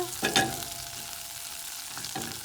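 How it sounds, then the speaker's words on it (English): Butter sizzles softly as it melts in a pan, a steady low hiss with a couple of faint clinks from a utensil. "So my butter is almost melted."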